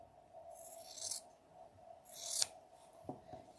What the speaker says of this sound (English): I'm just going to use my scissors and trim